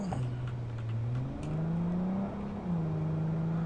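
A car driven in first person in Cyberpunk 2077 gives a steady engine hum that rises and shifts pitch as it speeds up, heard alone and close.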